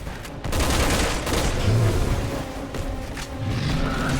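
Muffled gunfire in Resident Evil 5 co-op, a dull volley of distant booming shots rolling under a low rumble for a few seconds.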